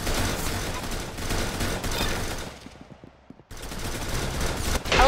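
Rapid bursts of gunfire from a weapon in the Roblox game Arsenal rattle in dense, loud volleys, break off briefly in a fading gap, then resume just as heavily.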